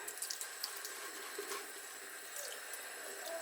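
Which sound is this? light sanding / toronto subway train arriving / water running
water running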